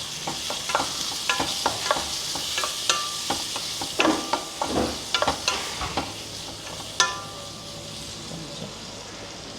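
Onions cook in a pan with a turmeric seasoning while a utensil scrapes and taps through them in quick, irregular strokes. A quiet sizzle runs underneath the stirring.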